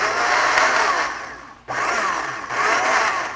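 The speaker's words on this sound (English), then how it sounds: "And liquefied in a blender." A blender whirring steadily as it liquefies bonytail fish skin in tank water, a loud continuous motor whine with a brief dip partway through before resuming at full strength.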